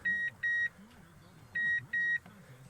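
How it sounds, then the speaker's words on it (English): A 2003 Toyota Tundra with the key in accessory sounds four loud electronic warning beeps in two pairs, close, over a low idle-like rumble and faint background voices. "Sorry for the beeping."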